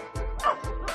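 A Labrador Retriever gives a few quick, sharp barks and yips in rapid succession, fairly close, with a voice faintly underneath, at an international dog show.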